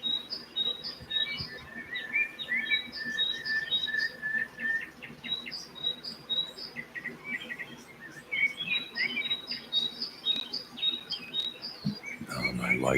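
A tiny baby bird chirps in a steady stream of thin, high, rapid tweets, fairly close, with light background rustle and no talking.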